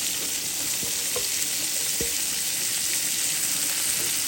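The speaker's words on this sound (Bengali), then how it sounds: "ভেজে নিব।" Onion, raw spices and tomato frying in a pan for rohu fish bhuna, with a loud continuous hiss of oil and a couple of faint utensil taps.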